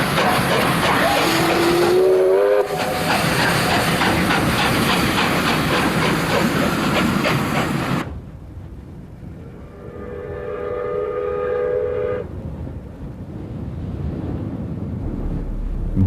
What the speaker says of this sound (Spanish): nuestras dos locomotoras, con los reguladores bien abiertos, adelantan al tráfico rodado de la autopista del oeste.